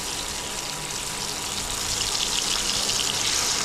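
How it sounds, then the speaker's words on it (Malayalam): Freshly caught tilapia and anabas fish fry in hot oil, a steady dense sizzle that swells slightly louder midway and carries on without pause, close by and alone. "അടുത്തത് നമുക്ക് ഇതുപോലെ ഒന്ന് പറക്കിയിട്ട് ഫ്രൈ ചെയ്തെടുക്കാം."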